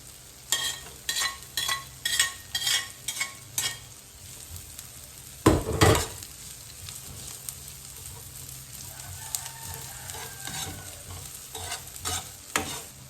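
Onion cut in large pieces, then garlic, sautéing in a pan, with a spoon scraping and stirring in a run of quick strokes over a steady close sizzle, one louder clatter midway, and the frying hiss continuing afterwards.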